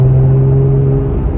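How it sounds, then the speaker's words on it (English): Porsche Cayman S 987.1 fitted with a Top Gear full exhaust cruises in fourth gear, giving a loud, steady low engine hum with a strong constant drone tone and no talk. "So fun having like a good sounding car."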